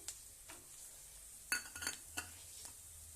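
Green chillies go into a hot pan of roasted tomato for paneer kofta gravy, giving a faint sizzle with a few soft stirring scrapes and clinks in a short burst midway.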